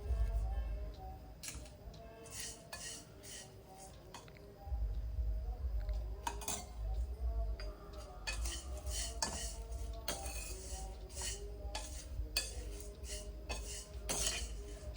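Poha tossed and roasted in a pan with turmeric tempering for Maharashtrian dadpe pohe, giving close, irregular scraping and light clinks of a spoon against the pan over a steady low stove hum, with no talking.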